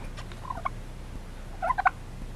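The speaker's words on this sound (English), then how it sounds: "a turkey hen." Two short bursts of turkey gobbling, fairly faint and a little distant, over a quiet outdoor garden background with a low rumble.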